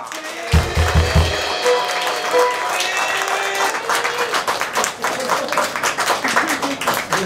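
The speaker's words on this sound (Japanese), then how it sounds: "大きな大きな拍手で。" A crowd at a live rock concert in a small Ota City livehouse claps steadily after a few heavy drum hits at the start, with the applause filling the room and continuing throughout.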